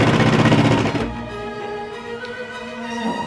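A sewing machine stitching a sweatshirt bodice around the sleeve, loud and close, with a fast steady motor whir that settles into a lighter, even hum.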